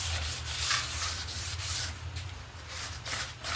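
Light hand sanding scuffs a wooden hat and coat rack surface with fine abrasive, a steady close rubbing swish in repeated strokes, continuous for a few seconds with no voices.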